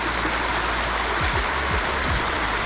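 Garden water feature, just plugged in after a rebuild, running with water spilling from the top: a continuous splashing trickle and babble, fairly close, with a few soft low thumps partway through and no talking.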